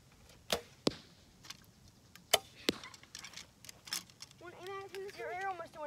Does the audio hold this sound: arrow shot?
yes